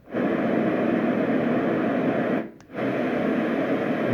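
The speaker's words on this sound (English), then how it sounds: "And these are more in their sort of pink range noise." A steady, soft hiss of pink noise from a LectroFan Evo white noise machine plays continuously, briefly cutting out once before resuming at the same level.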